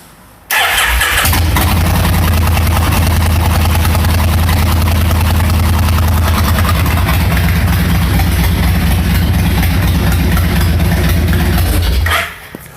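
Small engine on a project machine starting after sitting a few days, catching abruptly and running at a loud, steady, rough idle for about eleven seconds before cutting off.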